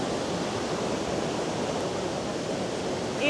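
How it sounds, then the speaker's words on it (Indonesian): Victoria Falls on the Zambezi River in Zambia, heard from below as a dense, unbroken roar of falling water that stays loud and even from start to finish, with no talking. "Ini aku di bawahnya Victoria Falls"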